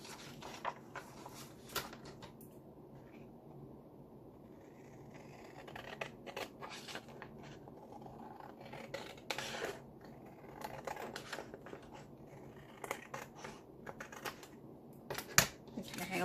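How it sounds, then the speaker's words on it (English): Scissors snipping excess paper from the edges of a handmade three-pocket ephemera book, after the folds were creased with a bone folder. Quiet, irregular crisp cuts and paper rustles are scattered close by at low level. "Run over that with the bone folder, and then we can cut the excess off."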